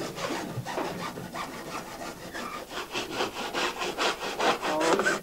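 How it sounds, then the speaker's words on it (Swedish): Close, rhythmic back-and-forth strokes of a hand saw biting through a pipe during a 1995 rescue, loud and steady without talk. "vi kommer att såga av röret"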